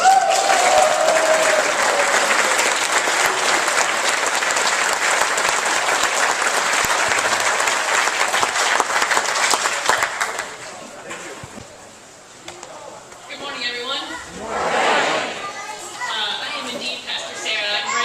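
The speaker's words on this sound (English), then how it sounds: "you should clap for them like you're supposed to" A church congregation at a Minong community worship service breaks into dense, sustained clapping for people called up front. It fills the room for about ten seconds, then fades into murmuring voices and scattered talk.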